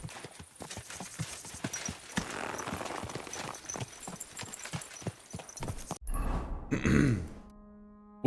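Horse hooves clip-clopping in a video game, a steady, rhythmic trot of evenly spaced thuds close by, followed by a horse's snort and grunting whinny before the sound cuts off.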